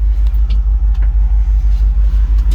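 A 1968 Ford F100 Custom pickup's engine rumbles loud and close as it pulls away, its deep exhaust pulsing in a steady, even throb with no talk.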